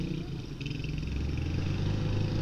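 A motorcycle engine on a road test, freshly oil-changed and treated with a performance additive, runs steadily and rises in pitch from low toward higher RPM, a close, continuous drone that grows gradually louder.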